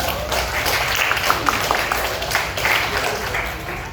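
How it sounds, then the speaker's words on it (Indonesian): A class of students gives brief applause, light scattered clapping that sounds moderately close and fades within a few seconds. "Dan tepuk tangan."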